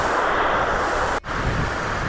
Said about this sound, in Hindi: बहुत ही ठंडी ठंडी हवा चल रही है